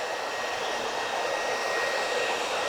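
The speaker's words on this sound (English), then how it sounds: "I'm just going to dry this off." A hair dryer runs at medium speed on high heat while drying hair, giving a steady, close whooshing roar with no pauses or voices.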